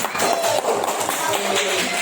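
Elementary schoolchildren in a classroom clap together in a quick, uneven patter of many small hands, lasting about two seconds, with voices mixed in.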